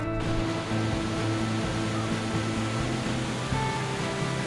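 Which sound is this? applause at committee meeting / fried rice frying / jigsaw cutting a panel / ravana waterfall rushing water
ravana waterfall rushing water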